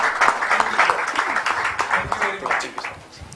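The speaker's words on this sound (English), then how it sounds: "Can we have a huge round of applause for him?" Applause from an audience welcoming a speaker to the stage at a tech day event in a hotel, dense and steady clapping with a speaking voice or cheer mixed in, fading slightly toward the end.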